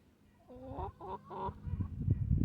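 Silver Wyandotte hens cluck softly in a short series of nearby calls, followed by scratchy rustling and shuffling noise.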